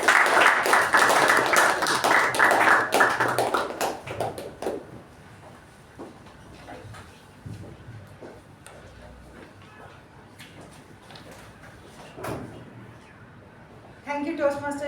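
A meeting audience at a Toastmasters club gives a round of applause that is fairly loud for a few seconds, then fades into scattered claps and room noise before a voice begins speaking.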